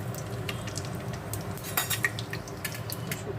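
Dried red chillies dropped into hot oil in a pan and stirred, giving a low steady sizzle with repeated light clinks and scrapes of a metal spatula against the pan.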